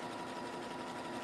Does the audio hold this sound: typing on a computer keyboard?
no